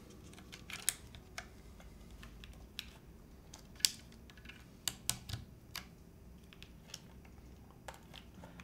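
Keycaps and switches being pulled out of a Lumen keyboard whose plate sits loose, giving a scatter of sharp, close plastic clicks and snaps at irregular intervals over a quiet background, no talking.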